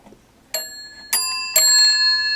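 An old telephone bell, not rewired and with one wire to the bell sets disconnected, strikes three bright metallic rings about half a second apart, each leaving a sustained tinkling ring that overlaps the next, with no talking.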